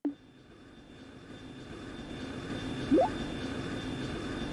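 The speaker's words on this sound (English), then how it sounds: "I don't think I've heard this engine sound before." In the Trails in the Sky SC video game, the Arseille airship engine makes a steady droning rumble that builds as the craft takes off, with a brief sharp onset and a rising whine near the end, no talk.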